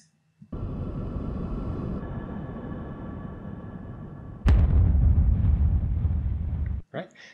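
A boom sound effect for a cinematic intro opens with a long rumbling swell, then hits a sharp deep impact that rolls on for a couple of seconds before cutting off.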